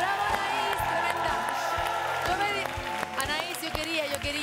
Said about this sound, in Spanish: Un aplauso para Anaís.